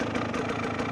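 GPX TSE 300 motorcycle engine fitted with an XTNG Gen 3 Plus smart carb, idling with a steady, even low rumble, close up and constant.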